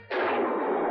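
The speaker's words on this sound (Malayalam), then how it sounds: "തോമസ് മാത്യുവിന് വെടിയേറ്റു." A single sharp burst of gunfire with a short booming tail marks an enemy attack on an army unit camped at a mountain foothill in a Malayalam film, heard alone and close.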